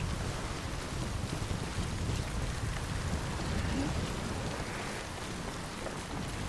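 Torrential rain falls in Death Stranding as a thick, continuous wash of spattering drops and low rumble, steady and enveloping before easing a little near the end, with no one talking.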